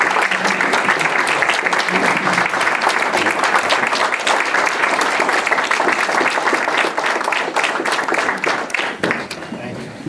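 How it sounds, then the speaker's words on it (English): A room full of people claps steadily for about ten seconds at a town board of selectmen meeting, honoring a retiring fire chief named Joe; the dense, loud applause holds evenly and thins slightly near the end. "give Joe a big round of applause"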